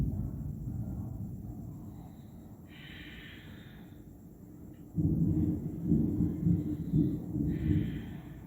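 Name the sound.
thunder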